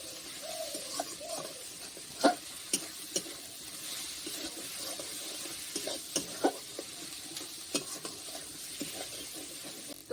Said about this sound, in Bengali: আদা রসুনটা ভাজা হয়ে গিয়েছে